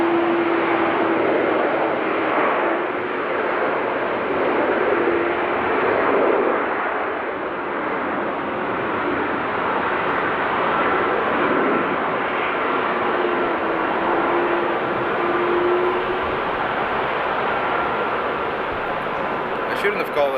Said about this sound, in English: we're gonna get a lot of planes today